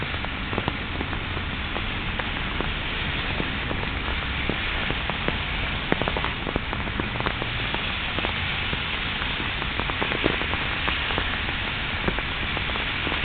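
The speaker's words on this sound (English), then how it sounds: "beautiful rainy haze that" Steady rain pattering densely on a hard surface, a continuous close hiss with scattered individual drops and no voices.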